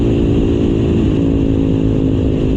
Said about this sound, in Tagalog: Kaya yung iyak ng makina ang ganda pakinggan.